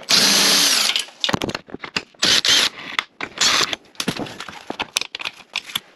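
An impact or power drill whirs in repeated short bursts while backing out a bolt on an Audi Q5 being put into service position, loud and close, with brief pauses between the runs.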